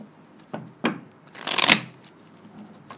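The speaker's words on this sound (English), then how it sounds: "One more shuffle." Close, quiet hand shuffling of a tarot deck: two short soft taps followed by one longer bright riffle of cards, then near silence.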